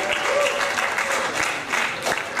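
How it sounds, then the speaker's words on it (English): A workshop audience claps for presenters at a Think Big presentation session, dense steady applause filling the room, fairly loud and sustained. "please claps for your friends that did an amazing job"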